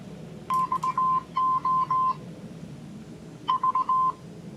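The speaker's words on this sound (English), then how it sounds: "A couple little beeps and it was connected." A Muzen Wild Mini Bluetooth speaker gives short bursts of steady electronic beeps while pairing with a phone: two quick runs of four tones, a pause, then a final run of four, clear and close.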